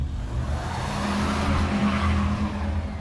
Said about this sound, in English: The tires spun on the ice for this terrifying second before catching, and we started moving.